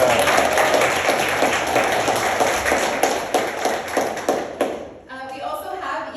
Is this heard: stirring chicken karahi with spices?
no